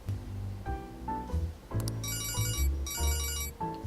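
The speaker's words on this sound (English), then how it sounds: "That is an ugly ringtone." A phone ringtone chimes in the video game Persona 5, a bright repeating electronic melody with bursts of high ringing over a busy game music backdrop, loud and up close.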